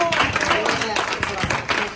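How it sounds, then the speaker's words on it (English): Church congregation clapping hands in a steady, rhythmic patter, heard close and fairly loud beneath a preacher's continuing speech. "Y'all can clap your hands there."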